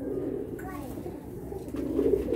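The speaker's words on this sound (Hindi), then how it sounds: "ये खुली आँख के कबूतर हैं" Open-eyed pigeons of medium size coo softly in a loft, a brief low warbling call rising over steady background murmur and someone talking nearby.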